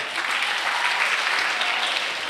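A crowd applauds after a dance performance at a youth talent show, dense and even clapping filling the whole stretch at a fairly loud level with no talking over it.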